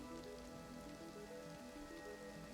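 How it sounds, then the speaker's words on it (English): Steady rain falls across the Deer Isle map in the DayZ video game, a constant pattering hiss of drops on surfaces with a low game tone humming beneath, no talking. "It's raining again. It's a very rainy map."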